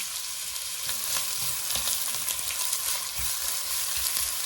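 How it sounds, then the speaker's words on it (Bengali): Chopped onions hit hot spiced oil in a pan for a majboos rice dish, giving a steady loud sizzle and crackle with occasional stirring scrapes, with no one speaking. "এবার পেঁয়াজ কুচিটা দিয়ে দিলাম"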